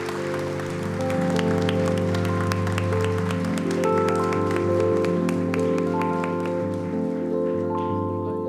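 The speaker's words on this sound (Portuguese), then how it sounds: "todos vocês recebessem com uma linda salva de palmas o nosso homenageado" Audience applause at a solemn award ceremony as the honoree of the Tiradentes Medal is welcomed: sustained, even clapping filling the hall for several seconds, with a steady sustained tone underneath.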